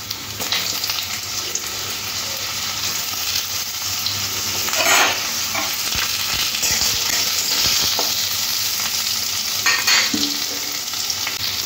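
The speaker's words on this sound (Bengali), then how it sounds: "লঙ্কাটা লাল হয়ে যাওয়ার পরে কেটে রাখা যে আলুগুলো দিয়ে দিতে হবে।" Cut potatoes and chillies fry in hot oil, a steady sizzle running throughout with occasional scraping stirs of a spatula, loud and close with no talking.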